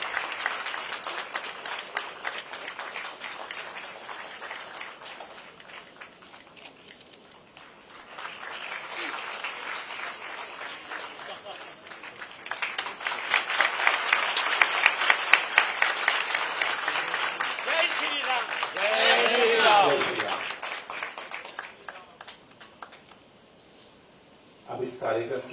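An audience at a college placement-day ceremony in Bhopal applauds during a memento presentation to the state governor. The clapping is moderate and swells louder in the middle before fading, with spoken voices now and then.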